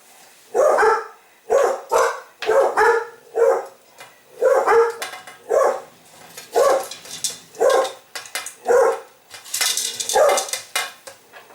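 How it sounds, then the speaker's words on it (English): Dogs bark repeatedly nearby, a run of a dozen or so loud, evenly spaced barks with short pauses, with a faint clatter like dishes in the background. "where would I be without barking dogs?"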